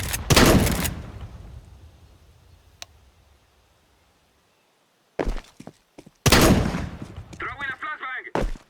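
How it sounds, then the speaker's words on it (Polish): Game gunfire and a grenade throw in CS:GO, with a loud burst at the start, a sharp thunk later, then dense repeated shots and a rapid crackling bursts near the end, partly alongside speech. "I am throwing a grenade!"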